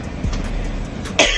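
A single short, harsh cough bursts out near the end after a moment of muffled background rumble, close and loud.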